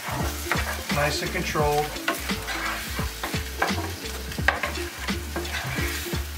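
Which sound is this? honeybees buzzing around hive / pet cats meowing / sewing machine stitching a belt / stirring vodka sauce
stirring vodka sauce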